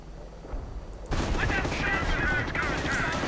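Artillery and gunfire in a WWII strategy video game, a quiet start giving way to loud, continuous rumbling barrages and rapid shots, with someone commentating over the battle.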